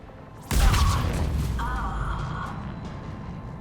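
A heavy cannon blast booms in Mass Effect 3 on Omega, one loud sudden hit followed by a long rumbling decay with mechanical whirring above it.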